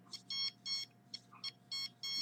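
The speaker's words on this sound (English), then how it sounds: "here is the other alarm, the other detector" Electronic beeps from a home detector alarm sound in short, evenly spaced bursts, alternating a brief chirp with longer tones, fairly faint and heard alone in a quiet indoor room.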